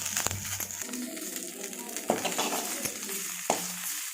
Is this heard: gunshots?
no